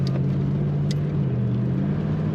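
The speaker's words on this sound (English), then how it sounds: "Nice throttle response in this car." A 1987 Ford Mustang GT convertible with an automatic transmission has its engine held at a steady, raised idle. The low, even rumble is close and continuous, with no clear rise and fall of a rev.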